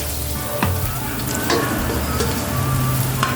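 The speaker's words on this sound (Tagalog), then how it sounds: "Maglalagay lang tayo ng konting mantika para panggisa ng mga sangkap." Sliced ginger sautéing in hot cooking oil in a pan as the base for a chicken dish, a continuous loud close sizzle with a few soft stirring knocks.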